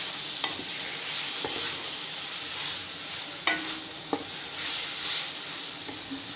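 Meat stir-fried in a pan, with a steady broad sizzle broken by several sharp scraping clicks of a spatula against the pan, close and fairly loud, no talking.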